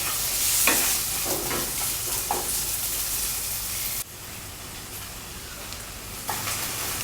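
Ginger, garlic and scallion stir-fry in a hot pan, a steady broad sizzle with scattered scrapes and clinks of a utensil, the frying briefly dropping in intensity partway through before picking back up.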